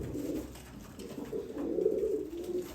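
Pigeons coo in low, rolling murmurs, the soft calls repeating and swelling close by with no talking.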